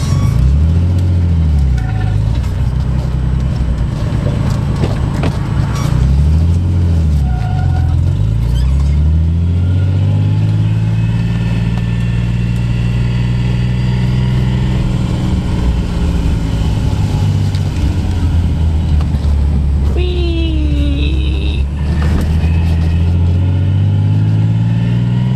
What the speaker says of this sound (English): I think all the lifters on the driver's side are tapping